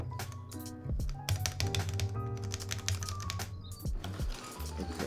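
Keycaps are pressed onto a KBDFans Tofu 60 keyboard fitted with stock Gateron Yellow switches, producing dense close clicks, taps and plastic clatter that continue without a break.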